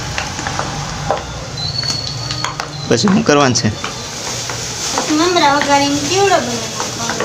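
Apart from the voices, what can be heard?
mamra chevdo ingredients frying in oil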